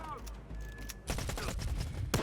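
Rapid gunfire bursts from the video game STALKER 2 come in clustered, sharp cracks, quiet overall, with a voice talking over the shooting.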